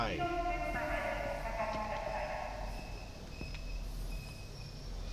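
A train passes close by, a horn-like tonal blare at the start fading into a steady rumble of rolling rail noise with scattered clanks.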